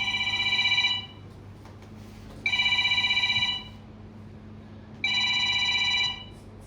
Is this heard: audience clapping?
no